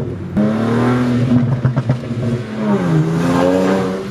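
Tuned BMW 335i with N54 engine, about 460 horsepower, accelerating hard with rising revs, then a crackling burst of exhaust burbles and pops mid-clip before pulling again, loud and close with no talk.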